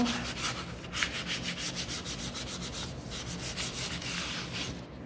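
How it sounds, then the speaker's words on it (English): Wood being hand-sanded gently on a small barn and truck craft piece, a steady soft rubbing scrape with rhythmic back-and-forth strokes, close and continuous, no voices. "I'm just going to gently sand this now"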